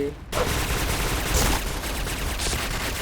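Rapid MP5K submachine gun fire in the online shooter Point Blank, a dense, steady burst of shots running nearly the whole time at close range, with a voice talking faintly underneath.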